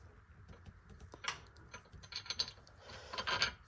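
Ford Escort Cosworth wheel hub being spun by hand during a wheel stud change, giving light ratcheting, clicking mechanical sounds in short bursts that grow busier toward the end, close and fairly quiet.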